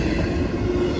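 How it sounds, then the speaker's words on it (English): Freight train NS 264 slowing down on a rainy morning, a steady broad rumble and rolling rail noise heard at moderate distance with no talk, continuous through the moment. "the train's starting to slow down"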